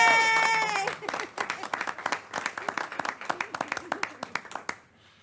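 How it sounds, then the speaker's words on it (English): A small group at a Board of Education meeting gives a round of applause, scattered, uneven claps that start after a brief tonal sound, taper off and end in near silence. "Let's give him one more round of applause."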